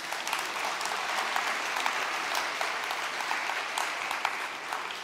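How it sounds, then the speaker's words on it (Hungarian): Audience applause welcoming a young singer-songwriter onstage at a live performance, a dense, steady clapping from a crowd that holds evenly throughout with no voices over it. "Köszöntjük őt egy tapssal."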